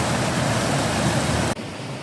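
Cold mountain creek rushing past a dispersed campsite in the Colorado mountains, a steady broadband roar of flowing water heard up close, dipping briefly near the end before continuing.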